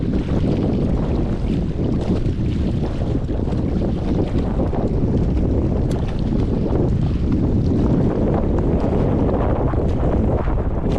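Strong, steady wind gusts roar and buffet the microphone while fishing, with a constant low rumble and no letup throughout.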